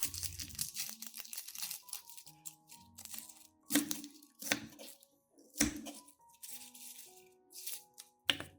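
Onion being chopped with a knife on a cutting board, a series of sharp crisp cuts and crunches in irregular bursts, close and clear with quiet gaps between strokes.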